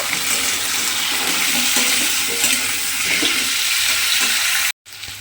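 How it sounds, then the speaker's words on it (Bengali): Potatoes seasoned with salt and turmeric fry in a pan with a steady, loud hiss and crackle that fills the whole clip. The sound drops out briefly near the end. "এই নুন আর হলুদ দিয়ে আলুটাকে কিন্তু প্রথমে খুব ভালোভাবে ভেজে নিতে হবে।"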